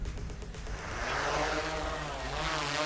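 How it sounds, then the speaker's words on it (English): A large drone lifts off, its big propellers building into a loud, steady whirring buzz that rises in pitch and fills the space throughout. "So it's a lot louder than the smaller drones, obviously. The propellers are huge."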